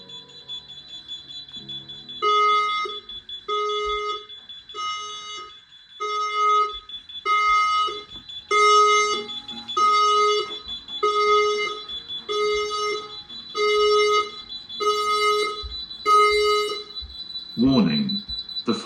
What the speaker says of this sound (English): Warning. The fire alarm system has operated.